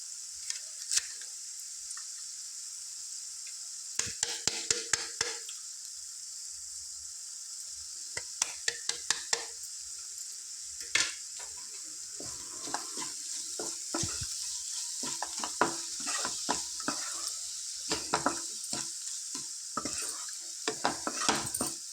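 Capsicum curry simmering in a pan with masala and chili powder, a steady soft sizzle with scattered clicks and scrapes of stirring throughout, no talking.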